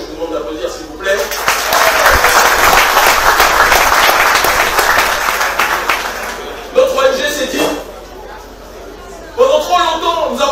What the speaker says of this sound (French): il faut mettre les choses dans l'ordre, notamment Nicolas Neta que je vous demande d'applaudir s'il vous plaît